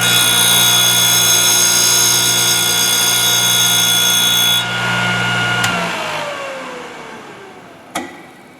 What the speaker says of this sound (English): One more grind here.